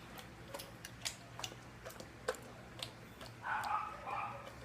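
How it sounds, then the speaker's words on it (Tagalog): Faint, sharp clicks of a dog training clicker sound every half second or so, fairly close, against a quiet room hum, followed by a soft rustling murmur near the end. "Bigay ang treat habang nag-click."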